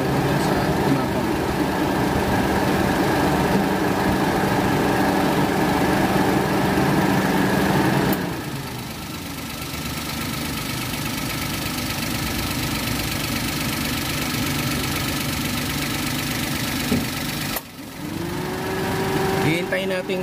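A car engine idles steadily while warming up after an auxiliary fan replacement, a constant medium rumble that drops slightly in level midway, with a short clunk near the end and a voice talking over it.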